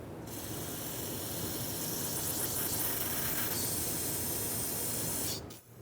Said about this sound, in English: Clean everything up with brake parts cleaner.